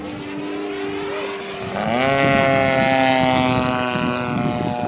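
A Freewing 90mm F-4 Phantom II RC jet passes overhead with a loud, sustained whine that sweeps upward in pitch and grows louder partway through, then holds steady.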